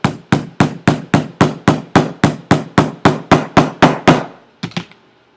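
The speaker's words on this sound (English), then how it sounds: "I think I'm just going to keep hammering." Repeated hammer blows driving a hole punch through smooth journal paper, about fourteen sharp, evenly spaced strikes in quick rhythm, then a short pause and two or three lighter taps.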